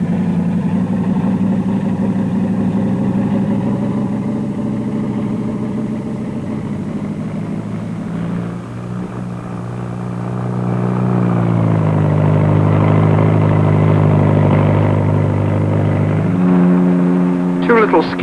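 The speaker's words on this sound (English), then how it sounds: "The Bristol 192, shown here landing, and as it lands, one engine is blanked off." A Bristol 192 twin-rotor helicopter lands with one engine shut down at a 1950s air show, giving a loud, steady engine drone whose pitch sags, then rises again as it settles. A voice talks throughout.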